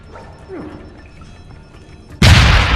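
Sudden loud explosion in the game Deus Ex: Human Revolution, a sharp full-bodied blast late on that keeps roaring, following quieter background sounds and a brief voice-like sound earlier.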